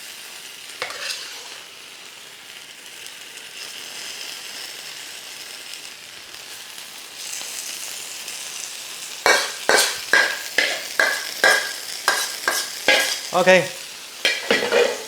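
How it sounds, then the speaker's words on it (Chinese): Sizzling hot-plate tofu in a Hong Kong dai pai dong style dish with egg, hissing steadily on a hot iron plate, then a loud run of rhythmic bursts of sizzle and scraping near the end, with a brief word spoken. "准备好你的铁板豆腐就放下去"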